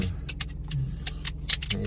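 A car engine idles with a steady low rumble throughout, while sharp clicks and jangling like keys rise above it.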